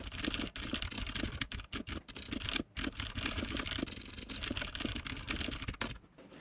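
Steady, dense typing on a computer keyboard while writing a note about design systems, with rapid close clicks and brief pauses throughout, no voice.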